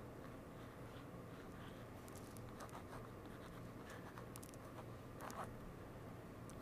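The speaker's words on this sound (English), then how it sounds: "this is just my pen over gesso" Pen nib scratching and gliding over a gesso-primed art journal page, soft, close, steady strokes under a low constant background hum, with no talking.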